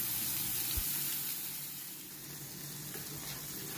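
A burger patty fries in a pot over low heat, giving a steady, soft sizzle that runs evenly and fairly close, with a faint low thump near the start and no talk.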